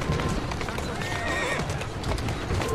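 A horse in Assassin's Creed Syndicate clip-clops and whinnies against a dense, busy game soundscape, with a short high neigh in the middle and continuous background noise throughout.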